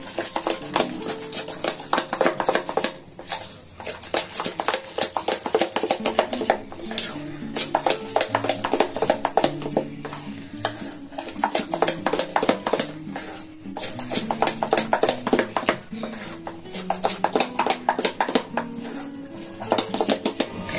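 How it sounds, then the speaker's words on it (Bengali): Hand-beating lentil paste with salt and sugar in a bowl, a dense, fast, continuous clatter of tapping and scraping against the vessel, loud and close with no talking. "এবারে এই যে ডাল, নুন আর চিনি, এটাকে ভালো করে এভাবে ফাটিয়ে নিতে হবে।"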